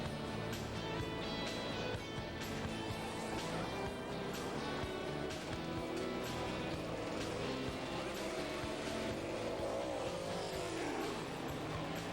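NASCAR race cars slow onto pit road under caution, engines droning loudly and continuously, with a faint pitch sweep as one car passes near the end.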